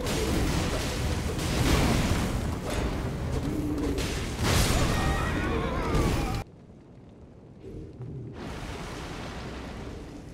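A loud, busy Elden Ring game soundscape with a summoned horse whinnying amid crackling, rumbling effects, then an abrupt drop to a quieter, muffled stretch.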